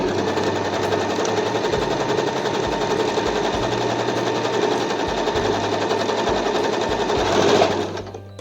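Usha Allure DLX sewing machine running steadily while stitching a buttonhole, a fast continuous mechanical rattle that stays loud and even for several seconds before slowing and stopping at the end.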